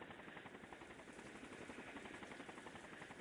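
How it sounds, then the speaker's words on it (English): Helicopter rotors whirl in a steady, dense chop through a rainstorm in a Higurashi visual novel scene, loud and continuous with a fast rhythmic beat throughout, no voices. "The helicopter's rotors stirred up the air and blew away the raindrops like a tornado."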